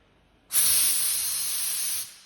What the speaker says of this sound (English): Blow the dust off.